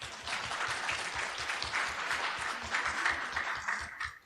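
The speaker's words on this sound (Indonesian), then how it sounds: "Terima kasih tepuk tangannya." Audience applause after the mayor of Semarang's speech at an event, a steady, moderately distant wash of many hands clapping that carries on throughout and fades at the end.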